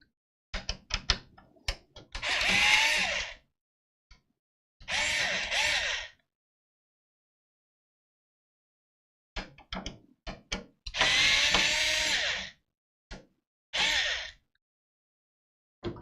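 Standard fan screws being backed out of the rear fan on an ASUS ProArt workstation, heard as close, short bursts of a small electric screwdriver whirring between scattered clicks and taps, with quiet gaps between the runs.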